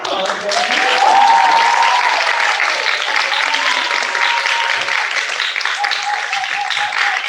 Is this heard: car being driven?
no